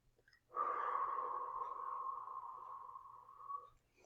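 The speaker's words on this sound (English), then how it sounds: "as you exhale, pursing the lips like you're blowing out through a straw" A single slow, deep breath through pursed lips during a stress-relief breathing exercise, a soft airy whoosh lasting about three seconds, close and quiet.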